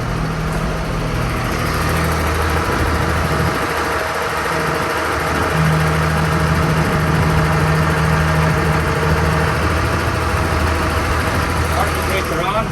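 A hostling tractor (yard goat) engine runs loud and close, with a steady diesel drone and a rising tonal whine as the fifth wheel is raised.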